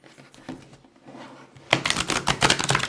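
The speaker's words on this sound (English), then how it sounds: "That's how you shuffle cards." Tarot cards being shuffled, a few soft riffles at first, then a burst of loud, rapid flapping and rustling of the deck close up.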